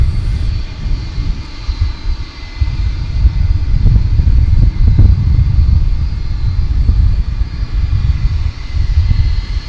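A heavy aircraft at DFW Airport gives a loud, continuous engine roar with deep rumbling that swells and holds for several seconds.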